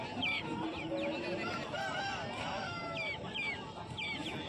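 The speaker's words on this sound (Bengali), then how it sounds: "মোরগ মুরগি হবে এগুলো।" Young Aseel roosters and hens clucking and chirping at a rural weekly market in West Bengal. Several short calls overlap through the clip against a bustling background.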